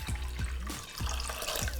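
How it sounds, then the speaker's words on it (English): A cup of water pours into a soy-sauce-based pickling liquid for Korean cucumber pickles, making a close, splashing trickle with rhythmic gurgling pulses over a couple of seconds. "And then we're gonna add 1 cup of water."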